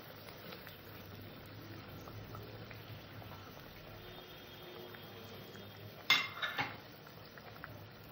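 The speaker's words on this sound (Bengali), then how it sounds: "সিচি মেরে রাখা মাছ কটাকে দিয়ে দিলাম।" Pieces of pakal fish drop into a pot of bubbling curry with softened potatoes, a soft simmer underneath and a brief cluster of splashes and clatter near the end.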